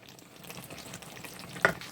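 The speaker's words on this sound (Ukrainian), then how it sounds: "час від часу обов'язково помішуємо тушкуємо і помішуємо" Eggplant caviar stewing in a pot while being stirred, a soft low bubbling sizzle with faint stirring and one brief louder knock of the spoon near the end.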